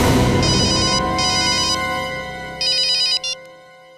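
A telephone ringtone plays loud and clear in repeated electronic bursts, two long rings followed by a shorter pair, with a sustained musical tone running underneath.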